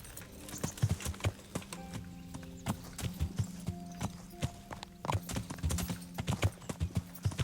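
Horse hooves clip-clop along at a steady walking rhythm in the medieval game Kingdom Come: Deliverance, moderately close, with a faint low game ambience beneath and a brief snort or whinny-like sound mixed in.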